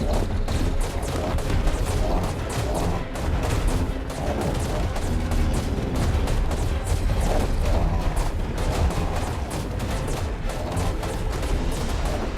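Gunfire in the video game ARK rattles continuously, dense overlapping shots and booms forming a loud, unbroken barrage that fills the whole stretch without any talking.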